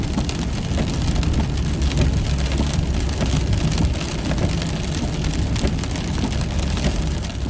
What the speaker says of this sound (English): Gotta love the random rain.